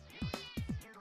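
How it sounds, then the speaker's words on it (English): A cat meows twice in quick succession, each call a rising-then-falling yowl, in Super Craft Bros. Minecraft gameplay. Close, clear and loud, with no talking over it. "Go away, cat."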